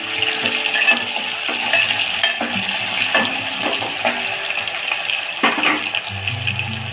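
Crushed garlic and tomatoes sauté in a pan for a village-style fish curry, giving a steady close hiss of frying with light, irregular stirring scrapes and clinks throughout.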